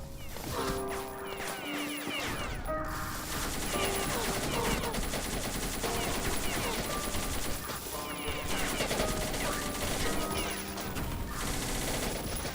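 A machine gun fires in the video game Beyond Citadel as a continuous, steady stream of rapid shots under a busy game mix, moderately quiet throughout.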